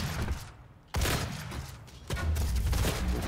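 A shotgun fires in Doom multiplayer, two sharp, loud blasts about a second apart, each trailing into a roar of game noise.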